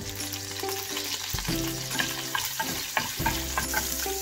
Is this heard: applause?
no